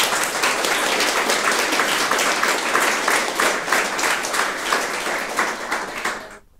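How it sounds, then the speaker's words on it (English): Steady audience applause at the closing session of the All Systems Go! 2024 conference, dense and even clapping that holds for several seconds before thinning out and stopping. "another round of applause for them"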